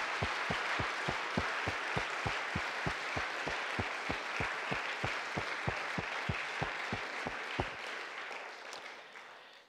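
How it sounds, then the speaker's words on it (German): A church congregation claps in steady, rhythmic unison, strong even beats filling the room for about eight seconds before the clapping stops and a faint room tail remains. "einen Applaus geben, einen herzlichen Applaus"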